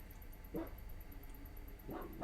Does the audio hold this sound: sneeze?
no